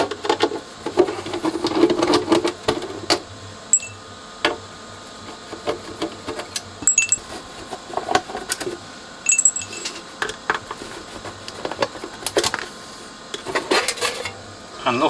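Small metal screws being worked loose from the lid of a Dynacord DDL 12 digital effects unit under repair, with scattered clicks, taps and light metallic rattles at close range and no talking.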